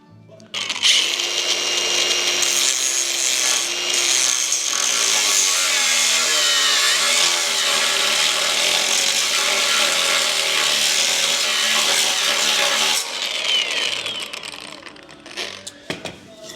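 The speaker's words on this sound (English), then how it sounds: "Now I gotta cut my old bumper brackets off my old bumper to transfer them to the new bumper." A power tool cutting the brackets off an old bumper from a 1958 Plymouth Fury, a loud, steady, close grinding whine running unbroken for about twelve seconds before it stops and a few clanks follow.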